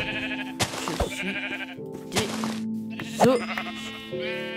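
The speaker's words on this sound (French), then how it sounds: "Il y a combien de moutons là?" Several sheep bleat in the Minecraft survival game, their short, wavering calls arriving one after another in quick succession, close and fairly loud against a steady background tone.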